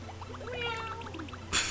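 A person imitates a cat, giving a high, wavering meow with a rising-falling pitch, close and moderately loud. A brief bright burst of noise cuts in at the very end.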